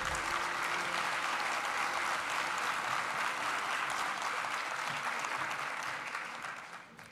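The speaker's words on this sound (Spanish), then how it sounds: "A este grupo de historiadores brindémosles un fuerte aplauso" An audience at a university graduation ceremony applauds a group of history graduates, dense even clapping throughout that gradually tapers off in the final second.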